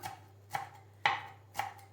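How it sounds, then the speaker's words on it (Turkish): Four crisp knife chops through dill on a cutting board, evenly spaced about half a second apart, close and clear with no talking. "dereotlarını doğramaya başlıyorum"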